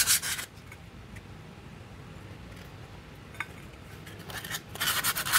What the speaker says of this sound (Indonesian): Ini kita amplas dulu aja sih biar kotorannya bersih juga.